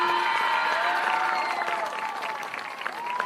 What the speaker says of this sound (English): please give a huge round of applause for our 2025 homecoming court